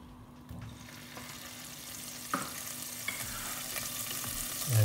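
Oil and a little Lurpak butter crackle and sizzle in a pan on the stove, a steady hiss with a few sharper pops and stirring scrapes, growing slightly louder toward the end, with no talking.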